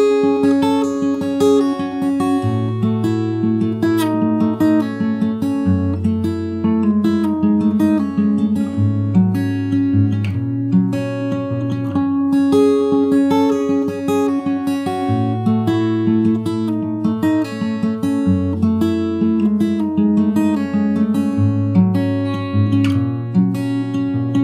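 Fingerstyle acoustic guitar with a capo plays part A of a song, a steady, clear progression of picked notes over a moving bass line, alone.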